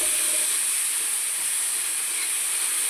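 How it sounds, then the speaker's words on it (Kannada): Sliced onions fry in hot oil with a loud, unbroken hiss that stays close and even throughout, with no talk over it. "ಈರುಳ್ಳಿ ಹಾಕಾದ್ಮೇಲೆ ಸ್ವಲ್ಪ ಕ್ಲೀನಾಗೆ ಫ್ರೈ ಮಾಡ್ಕೋಬೇಕು"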